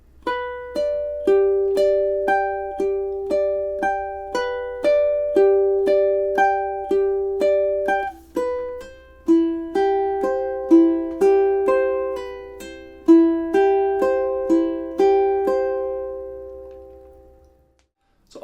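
A ukulele plays two measures of J.S. Bach's Prelude in C as steady picked arpeggios, each note ringing clearly in an even rhythm, solo and close, with a brief pause midway.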